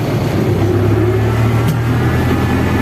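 A tractor pulling an AG 2.4 disc harrow while disking sunflower ground reverses with a loud, steady mid-range engine drone and a low hum that shifts slightly partway through.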